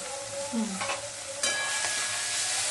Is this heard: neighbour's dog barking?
no